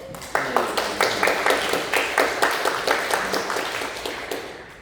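A church congregation claps steadily in a room at a Sunday service, a dense patter of many hands sustained throughout, fairly close and even in loudness.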